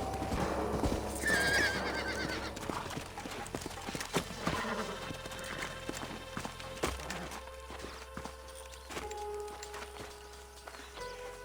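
Horses in a Red Dead Redemption Western game clop along and whinny loudly near the start, hooves thudding and gear rattling as the animals slow and settle, with a brief voice in the mix.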